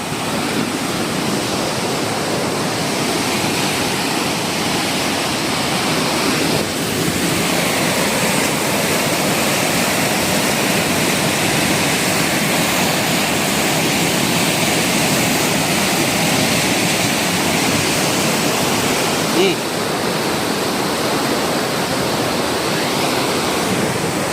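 A roaring waterfall where two streams of water meet at a dangerous spot, making a loud, unbroken broadband rush heard close by with no voices.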